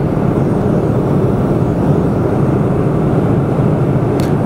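Airplane cabin noise in flight: a loud, constant, broadband engine and air roar that fills the whole span evenly, with a faint high tick near the end and no talking.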